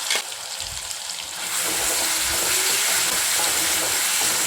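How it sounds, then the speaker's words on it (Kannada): Green paste gets stirred into egg rice frying in a pan, with a steady loud sizzle swelling partway through and spoon scrapes and stirring noises on top. "ಮಾಡಿದ ಪೇಸ್ಟ್ ಹಾಕ್ರಿ, ಕಲಸಿ."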